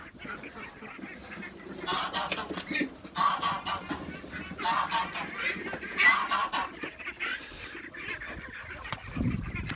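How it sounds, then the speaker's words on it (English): Several ducks quack and honk in bursts, close by and overlapping, with rustling movement between calls. "I'll feed these ducks so it's a little quieter."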